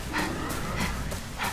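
Dog sounds from the video game Resident Evil 6 in a cemetery at night: short panting and yipping bursts repeating about every half second over a steady game ambience, with no talk.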